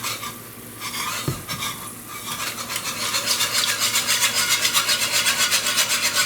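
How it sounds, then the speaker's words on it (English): A whisk stirs cheese sauce for macaroni in a pot, a continuous scraping, swishing rhythm that grows faster and more regular toward the end, close and fairly loud with no talking. "you'll keep whisking it constantly"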